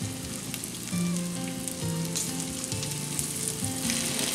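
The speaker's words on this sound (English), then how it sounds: "Now we just start cooking the cubes." French toast cubes sizzle in melted butter and bacon fat in a pan, a steady close frying crackle with occasional soft stirring and scraping, no voices.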